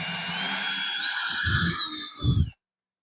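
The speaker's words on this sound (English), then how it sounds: "Alright, getting the drill." A power drill drilling a hole whines at high pitch, rising and then falling off, with two heavy bursts of grinding effort before it stops abruptly.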